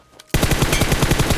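Automatic gunfire in PUBG Mobile, a loud, close burst of rapid shots that cuts in suddenly after a brief quiet moment and keeps firing in an even rhythm.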